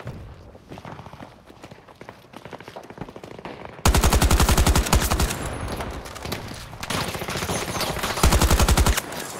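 Rapid bursts of automatic gunfire from Battlefield 2042, the player on the receiving end, loud and close; a quieter patter of shots and movement gives way to heavy sustained firing, with a final hard burst near the end.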